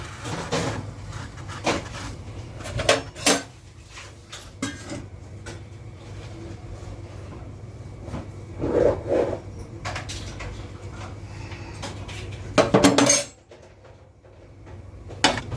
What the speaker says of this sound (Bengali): এবার কড়াই থেকে টিফিন বক্সটা তুলে নিচ্ছি